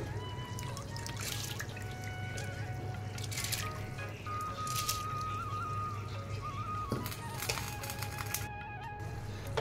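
Uncooked rice added a little at a time to a hot pot for chicken biryani, giving a steady patter of small grains ticking and rustling close by, with light clinks scattered over a low background hum.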